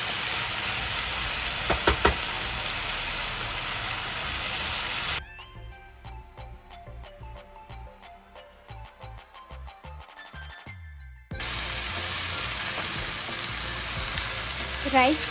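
Schezwan rice and mixed vegetables fry on a high flame, a loud steady sizzle that drops away midway to a quieter stretch of scraping and stirring, then returns at full strength.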